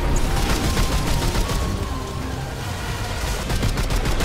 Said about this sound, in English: We're just shooting every single bullet we have.